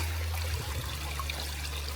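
Water from a waterfall stream flows and trickles steadily, a continuous close rushing wash with a low rumble and no voices.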